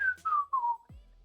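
One person whistles a short descending tune of three sliding notes, clear and close, followed by a brief low thump.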